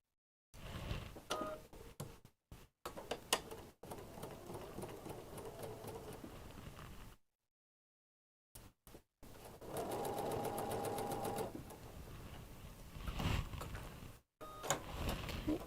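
A sewing machine stitches a quarter-inch seam on quilt pieces, running in short bursts with pauses and silent gaps, then a longer steady whir, its needle ticking rapidly and close.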